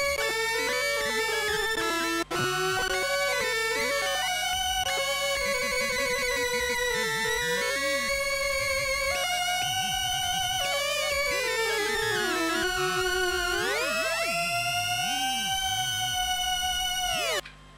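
Layered buzzy tones from a Korg Monotron synthesizer, built from combined sawtooth waves, drone and shift pitch, with sliding glides and a rising sweep near the end.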